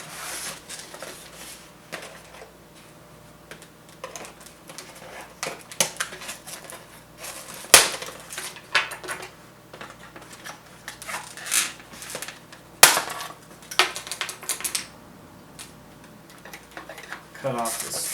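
Plastic packaging straps being cut off the box of an ECX 1/18 Roost desert buggy, two sharp snaps standing out among soft cardboard handling and rustling, close up, with someone talking intermittently.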